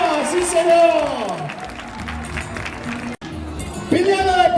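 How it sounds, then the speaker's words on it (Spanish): Rhythmic crowd clapping fills a village bullring during a recortadores bull festival for El Cristo de la Luz 2016 in Madrigal de la Vera, steady and dense, with a loud announcer shouting over it throughout. "¡Vamos a darle palmas a ese tío!"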